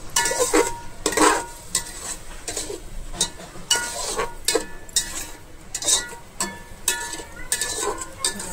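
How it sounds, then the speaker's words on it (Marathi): A spoon stirring tomato gravy for egg biryani in a pan, steady repeated scraping and clinking against metal with a faint sizzle, close and alone without talk. "टॅमॅटोची ग्रेव्ही टाकूया आपण."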